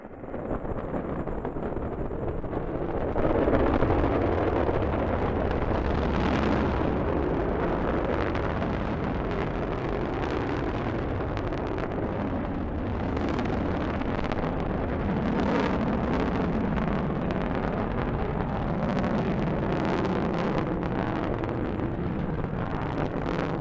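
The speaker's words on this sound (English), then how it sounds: "Liftoff of the Delta rocket carrying GLAST, a gamma-ray telescope searching for unseen physics in the stars of the galaxies." A Delta rocket carrying the GLAST gamma-ray telescope lifts off, giving a sustained, broad roaring rumble that holds steady with a slight swell early on, heard at a distance without voices.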